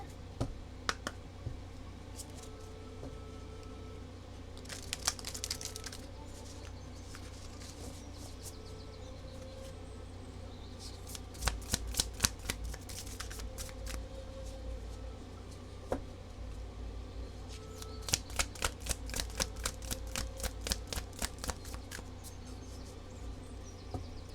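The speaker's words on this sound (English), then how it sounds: "Let's pull a Moonology card here." Moonology oracle cards are shuffled for a tarot reading, giving repeated soft riffling bursts of crisp card snaps scattered over a quiet background hum, with no talking.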